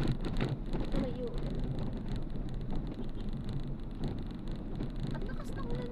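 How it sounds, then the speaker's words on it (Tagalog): Heavy rain pours steadily over a car driving through Metro Manila, a dense, constant hiss and drumming that fills the cabin, with faint voices talking underneath. "Ang lakas ng ulan dito."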